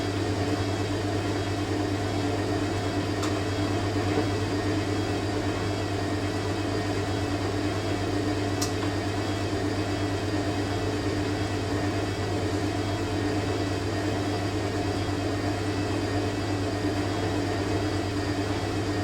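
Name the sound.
Hoover A3060 washing machine rinsing bedding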